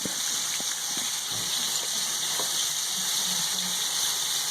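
Meat sautéing in a pot for a Peruvian-style pot roast gives a steady, close sizzle and hiss of frying, with faint stirring clinks under it and no talking.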